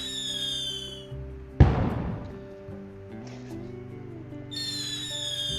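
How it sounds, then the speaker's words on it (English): One sharp firework burst in the farming game My Time at Sandrock, loud and sudden, with crackling that fades away, set against steady game music and soft whistling tones. "to really see how it'll look, you have to set off the fireworks"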